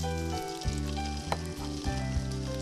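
Chicken pieces going into a hot pan and frying for Greek-style chicken, a loud, close, continuous sizzle with brief stirring and shifting noises over a steady hum.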